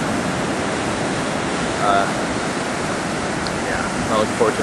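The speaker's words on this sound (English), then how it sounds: "In those waves. Wind's blowing them in there really good." Wind-driven ocean surf at a Los Angeles beach on a triathlon race morning: a steady, loud roar of breaking waves with wind buffeting the microphone throughout and no talking.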